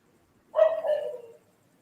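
A single drawn-out dog bark or yowl rising out of near silence, loud and close, lasting under a second before fading.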